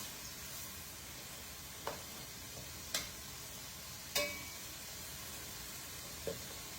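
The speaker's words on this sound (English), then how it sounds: "Right now we want to get a nice sear on them though." Shrimp searing in a hot pan give a low, steady sizzle and hiss with a few sharp ticks and pops from the pan scattered through, and nobody talks.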